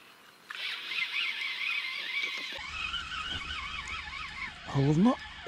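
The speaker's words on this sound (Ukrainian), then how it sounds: "О, ще й повітряну тривогу оголосили. Завило." A wavering air raid siren wails steadily at a distance beneath outdoor riverside background noise in Ukraine, rising and falling in pitch throughout.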